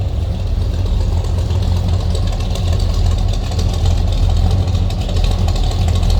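A 1970 Pontiac GTO V8 runs close and loud with a steady, dense mechanical rumble and a deep low-end throb, holding fairly even with no sharp rev spikes and no voices.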